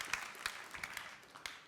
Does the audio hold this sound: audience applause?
yes